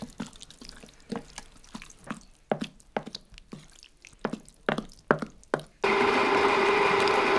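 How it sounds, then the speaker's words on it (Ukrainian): Choppy tapping and wet splatters come in an irregular rhythm, then an electric grinder starts mincing fried blood for blood sausage, with a steady, loud whirring hum that continues to the end. "почали перемелювати підсмажену кров"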